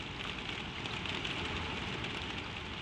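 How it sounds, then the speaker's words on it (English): Gentle rain patters steadily on a skylight, a soft, even hiss that holds at a constant low level without pause or voices. "The rain on the skylight gathers a little for a moment, a soft swell of it, and then eases again."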